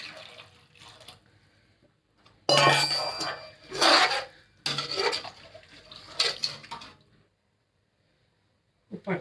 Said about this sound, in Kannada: ಈಗ ನೀರು ಹಾಕ್ತಾಯಿದ್ದೀನಿ